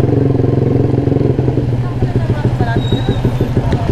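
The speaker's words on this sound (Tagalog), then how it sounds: "mas lumakas yung lagitik nang nagpalit ako ng back pressure" A motorcycle exhaust ticks rapidly and steadily after a back pressure change, close and loud, over a running engine with a low rumbling idle.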